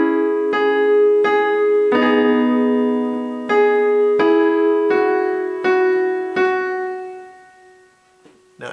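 Piano playing the right-hand part of a song from Over the Garden Wall, a slow sequence of about nine struck chords that ring and fade, close and clear with no talking.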